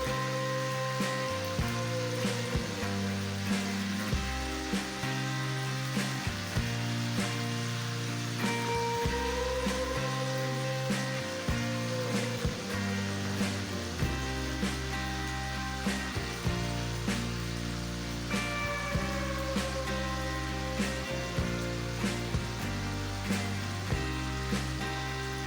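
Meat koftas frying in oil, a constant dense sizzle and crackle up close, with background music running steadily underneath and no talk.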